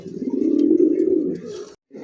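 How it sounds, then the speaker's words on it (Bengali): A pair of racer pigeons cooing up close, a low throaty rolling coo lasting over a second, then a short pause and the start of another call. "একজোড়া রেসার কবুতর"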